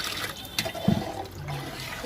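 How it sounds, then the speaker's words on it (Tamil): Water poured into a pot while village-style mutton biryani is being cooked, a short splashing gush of about a second and a half that comes in close and fairly loud, then tails off into a faint trickle. "ஸோ அதனால் பார்த்தீங்கன்னா கொஞ்சம் தண்ணியை கம்மியாக ஊற்றணும்."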